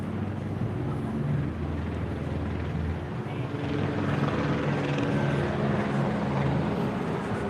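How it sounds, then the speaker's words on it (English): A helicopter hovers overhead above Hollywood Boulevard, a steady low rotor rumble with a faint thumping pulse that swells slightly, heard amid street noise in the open air. "I can see the helicopter up there"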